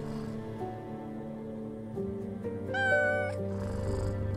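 A cat in the horror video game We Harvest Shadows gives a clear, drawn-out meow near the middle, rising above a steady, droning game music backdrop.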